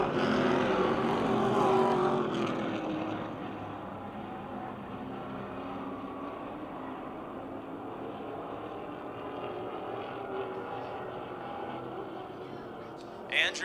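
Street stock race cars circle Motordrome Speedway in single file, their engines a steady, loud drone that swells and fades slightly as the pack passes, with a commentator talking over it throughout.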